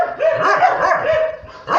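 Many dogs bark and yip together in a sustained, noisy, overlapping chorus, loud and near, with whiny high-pitched tones running through it.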